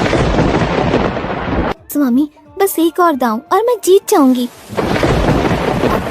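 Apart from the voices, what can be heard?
thunder and unseasonal rain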